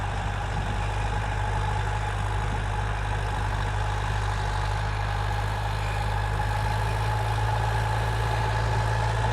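A tractor engine runs steadily at about 1500-1700 rpm, a constant mid-revving drone, a continuous low hum with a faint whine, no voices, unchanging throughout.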